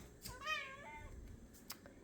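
Domestic cats meowing in a home kitchen, one clear drawn-out meow up close followed by a few faint, brief chirps and clicks.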